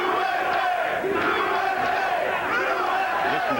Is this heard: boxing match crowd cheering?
yes